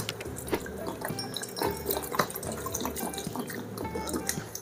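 Water being poured into a pot of parwal (pointed gourd) so the pieces stay submerged for soaking, giving a steady splashing and trickling with small drips, fairly close and moderately loud, with no voices over it.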